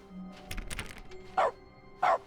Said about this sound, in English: Every time I click is now puppies.